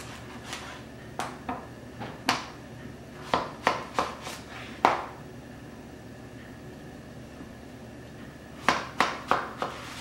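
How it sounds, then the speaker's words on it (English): A kitchen knife cuts through bacon-wrapped zucchini on a board, making sharp, separate chopping taps, some single and some in quick runs of three or four, with quiet pauses between them. "So now I'll slice them in half."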